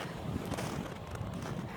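Cold wind blowing over open sea off Finland, a steady broadband rush with buffeting against the microphone, no voices.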